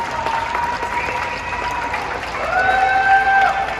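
Evening applause from apartment windows for medical staff during lockdown in France, distant scattered clapping with cheering and whistles, rising a little toward the end.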